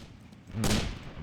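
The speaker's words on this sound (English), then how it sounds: "And that was a cannon." A tank cannon fires in WWII Online, a single heavy boom landing mid-clip and decaying over a second against quiet battlefield ambience.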